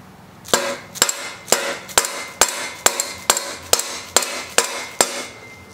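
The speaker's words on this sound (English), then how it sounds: "hammer the bearing cap right out." A series of sharp metallic hammer strikes at a steady rhythm, about a dozen blows, close and loud with a clanging ring, knocking a bearing cap out of a Schwinn Frontier bicycle.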